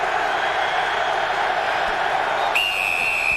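Baltimore Ravens home crowd at a 2000 Cowboys vs Ravens NFL game, a steady distant stadium roar with a faint whistle-like tone near the end.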